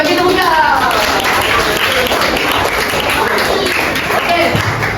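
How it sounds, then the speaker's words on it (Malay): Dense, steady applause fills a Malay-language Islamic education classroom after a group answers questions, with overlapping voices and chatter running underneath throughout. "bagi tepukan"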